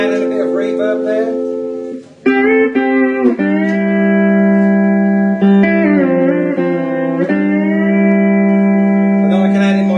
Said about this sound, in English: I can just add in a bit of reverb there.